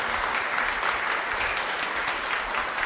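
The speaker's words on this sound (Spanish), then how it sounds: "Y un fuerte aplauso para nuestra comunidad." A congregation at a live Mass in the parish of San Miguel Arcángel, San Lorenzo, gives a strong, steady round of applause, many hands clapping evenly and close throughout.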